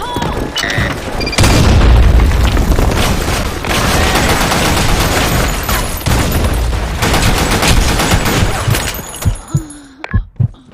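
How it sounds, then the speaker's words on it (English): A Counter-Strike grenade blast booms over dense, overlapping gunfire in a loud, sustained firefight; the shooting thins into scattered separate shots before fading out. "Fire in the hole! Grenade!"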